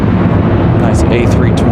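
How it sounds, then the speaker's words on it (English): American Airlines Airbus A320 airliner passing overhead at Charlotte Douglas International Airport, a loud steady broadband jet roar filling the whole clip, with faint higher whines rising near the end. "Nice A320."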